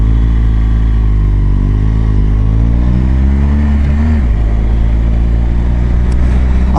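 A BMW GS adventure motorcycle pulls away and accelerates, its engine rising steadily in pitch through the gears, loud and continuous with wind rush, no talking.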